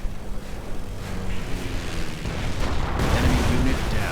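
Bombing-run explosions in a World War II strategy game with Panzer and Panther tanks, low rumbling booms swelling and rolling beneath a continuous roar, heard under talk.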